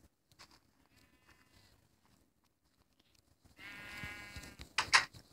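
Sheep bleating in a pixel-style video game, a faint bleat early on, then a louder, closer bleat near the end with a sharp click-like sound over it, against a mostly quiet background.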